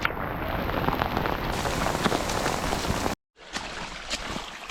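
Steady, dense rain pours over a hiking trail in Slovakia near Bardejov on a long-distance trek, a close, continuous hiss that cuts off briefly and then resumes slightly softer.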